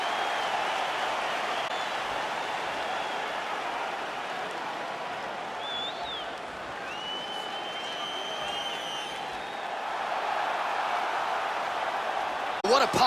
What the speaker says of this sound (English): What a pop from the crowd as this guy makes the walk